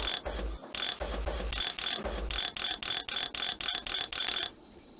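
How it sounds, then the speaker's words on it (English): Socket wrench ratcheting bolts onto a computer cover in the PC game Tonka Workshop (1998): a rapid run of about a dozen crisp mechanical clicking bursts in steady rhythm, loud and close, with no talk. "Bolt the cover on the computer using the socket wrench."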